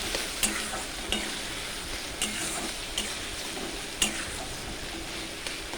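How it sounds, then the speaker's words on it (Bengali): A spice paste of ginger, cumin powder and dried chilli powder fries in a pan under a soft, steady sizzle, with a spoon scraping and tapping the pan at roughly one-second intervals, near and moderately quiet. "মশলাটা কষিয়ে নেব"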